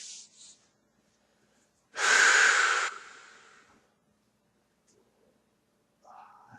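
A single deep, forceful breath during a lying yoga stretch, a loud rushing exhale that fades over about a second, with faint breathy sounds before and after.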